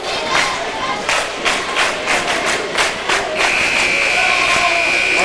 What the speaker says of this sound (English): This crowd is making a lot of noise, aren't they?